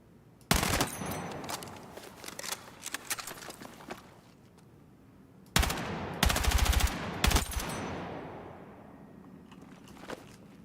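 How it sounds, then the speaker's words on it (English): Loud assault rifle fire in the Battlefield video game: a sharp opening burst followed by scattered shots, then a second heavy volley with rapid repeated reports and a long decaying echo, with no talking. "What is this gun? Is this the assault rifle?"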